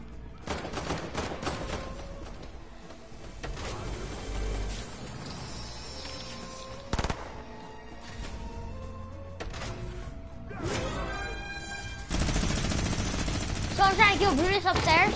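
Video game gunfire: scattered sharp shots and short bursts over a layered electronic backdrop, turning into dense, continuous firing near the end, with voices talking at times.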